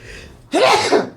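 One loud, close sneeze bursts out suddenly after a brief quiet moment, with a sharp noisy onset and a short voiced tail.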